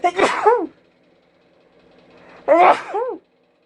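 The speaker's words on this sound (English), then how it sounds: "I'm gonna sneeze because of this." Two sneezes, close and loud, separated by a short quiet pause.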